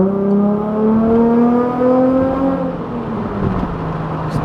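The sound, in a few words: Nissan 350Z with new exhaust revving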